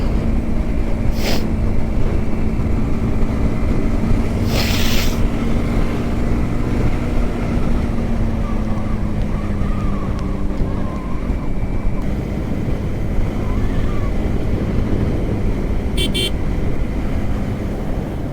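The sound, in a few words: Yamaha R15M motorcycle engine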